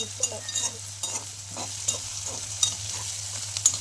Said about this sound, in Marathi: ती बघ बटाण लागला उडायला